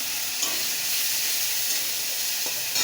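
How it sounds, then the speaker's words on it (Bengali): A ginger, garlic and onion paste fries in a pan with browned onions. A loud, steady sizzle and hiss continue throughout, with faint stirring scrapes. "এটা দিয়েও ভালো করে একটু ভেজে নেব।"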